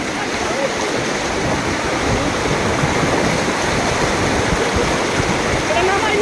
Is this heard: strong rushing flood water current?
yes